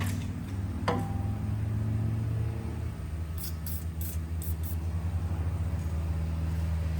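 A passing road vehicle, loud and close, its engine rumble swelling and then fading across several seconds during work on a 2011 Ford Ranger clutch install, with no talk over it.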